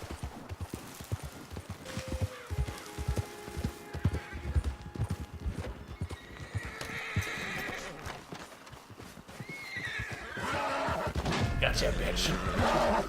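Horse hooves clip-clopping in the video game Red Dead Online, a steady galloping rhythm with a horse whinnying, ambient game sounds and occasional crashes, moderately quiet.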